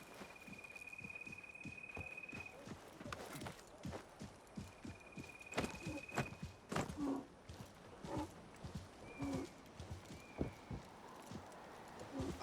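Horse hooves clip-clop steadily while riding in the video game Assassin's Creed Mirage, a fast, even gait at moderate volume with light ambient game sound and a few faint tonal cues.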